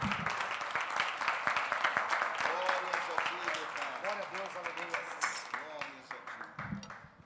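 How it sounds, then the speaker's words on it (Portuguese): A church congregation claps during a sermon, brisk overlapping hand claps blending into a busy patter while a voice speaks over the noise. "Uma salva de palmas para Ele"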